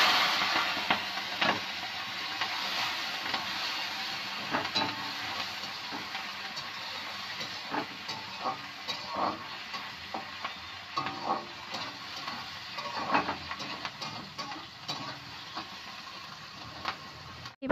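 Green chilli, tomato and grated ginger fry in a pan, giving a steady close sizzle broken by frequent sharp spatters and stirring clicks, with no voice over it.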